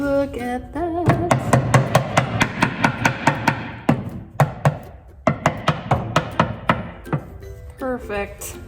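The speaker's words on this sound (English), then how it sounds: "Okay, maybe hammer it out would best describe this." A hammer drives a scratching post out of a vintage console, landing about twenty sharp, rhythmic blows in quick succession, with a brief pause midway before the striking resumes, close and loud.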